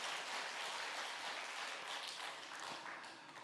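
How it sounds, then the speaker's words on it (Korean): A church congregation applauds its choir, a soft, diffuse patter of clapping heard at a distance that gradually tapers toward the end. "우리 찬양대 감사와 하나님께 영광의 박수 올려드리겠습니다."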